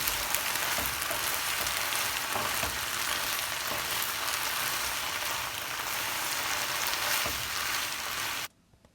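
Vegetables stir-fried in a hot pan give a loud, steady sizzle with occasional scraping from stirring, which stops abruptly near the end.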